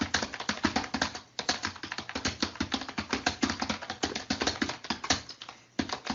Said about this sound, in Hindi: आपको 2 मिनट का टाइम लगा के टाइपिंग करके दिखाता हूँ